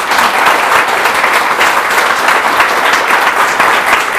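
Students at a motivational lecture on the importance of a degree break into loud, vigorous applause for their parents, a thick continuous roar of many hands clapping close and full throughout.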